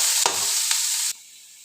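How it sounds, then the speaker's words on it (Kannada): Bitter gourd fries in oil over a medium gas flame, a loud close sizzle with a couple of stirring scrapes before it suddenly drops to a faint hiss. "ಒಂದು ಫುಲ್ ಮೀಡಿಯಮ್ ಗ್ಯಾಸ್ ಇಟ್ಕೊಂಡು ಫುಲ್ ಫ್ರೈ ಮಾಡ್ಕೊಂಡು"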